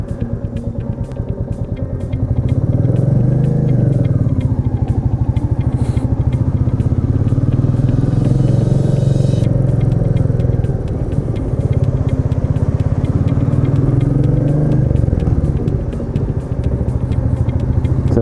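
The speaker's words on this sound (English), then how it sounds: "hear what this bike sounds like" Royal Enfield Meteor 350 single-cylinder motorcycle on the road, its engine a steady, loud, close thumping rumble that rises and falls with the throttle and runs nearly unbroken for the whole stretch.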